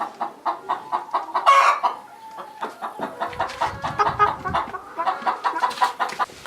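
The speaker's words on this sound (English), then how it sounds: "We had to stop at Farmer Charlie's to see his chickens and pigs" Several chickens cluck in rapid, overlapping bursts close by on a farm, with a brief higher squawk partway through.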